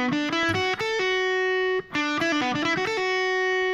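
Distorted electric guitar plays a fast lead phrase from a solo, with quick pull-offs and a few short gaps between clear, loud notes, with no talk.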